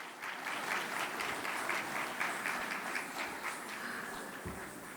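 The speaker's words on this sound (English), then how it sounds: "Let's give them a round of applause." Sustained applause from a luncheon audience at a Dallas boards and commissions appreciation event, a dense even patter of clapping holding steady throughout with no speech over it.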